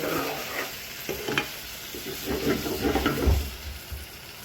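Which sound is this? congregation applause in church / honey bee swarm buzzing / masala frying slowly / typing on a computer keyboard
masala frying slowly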